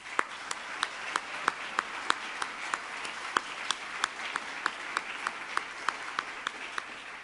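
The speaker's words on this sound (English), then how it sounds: "So just a little applause for those folks." A conference audience applauds in steady, sparse clapping, individual claps sharp and distinct at a moderate distance, with no voices over it.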